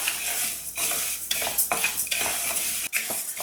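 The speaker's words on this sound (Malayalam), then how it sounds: "ഇത് നല്ല ചൂടായിട്ടുള്ള പാനിലേക്ക് നമുക്ക് ഇട്ട് കൊടുക്കാം അതൊന്ന് വറുത്തെടുക്കാൻ വേണ്ടിയിട്ടാണ്" Horse gram roasts dry in a hot pan, stirred with a utensil that gives repeated close scraping, rattling sweeps and clinks over a faint sizzle.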